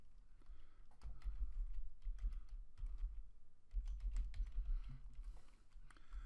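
Computer keyboard keys pressed steadily while working in Microsoft Word, a run of quick clicks and taps with brief pauses, close and moderately quiet, with no talk.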